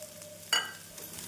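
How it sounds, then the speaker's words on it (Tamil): Shredded cabbage tossed into a pan with egg and sautéed over a medium flame: a quick scraping stir, then a soft sizzle that trails off within about a second. "நாம் முட்டைகோஸ் சேர்த்து மீடியம் ஃப்ளேமில் 4 நிமிடம் வதக்கினால் சரியாக வரும்."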